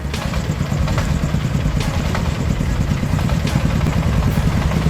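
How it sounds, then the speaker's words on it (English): A tractor engine chugs and roars continuously at close range, a steady clattering rumble with no pauses. "The engine roared helplessly in the quiet space"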